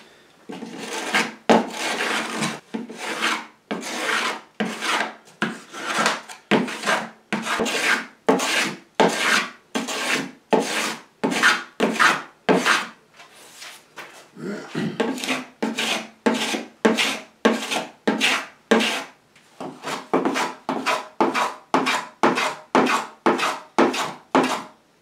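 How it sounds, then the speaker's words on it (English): A block plane and a sanding beam with 120-grit paper clean up a wooden centre block for an ES-335 guitar build, giving steady rhythmic rasping strokes, loud and close, with a brief pause partway through. "I'm just going to take a block plane and use that to do the initial clean up"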